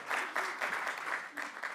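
Brief audience applause at a mobility and sharing-economy summit, a short cluster of moderately faint, loosely rhythmic clapping from a conference crowd.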